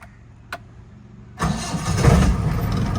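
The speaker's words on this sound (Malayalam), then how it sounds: "ന്യൂട്ടറിൽ നമുക്ക് സെൽഫ് അടിച്ച് നോക്കാം" A restored Mahindra jeep in neutral cranks on its self-starter after a short click, then catches and settles into a loud, rough idle close by.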